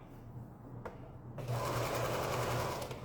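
A sewing machine runs steadily while stitching quilt block fabrics, its motor hum starting softly and then swelling into a continuous, close, fairly loud whir for the rest of the moment, with no talking.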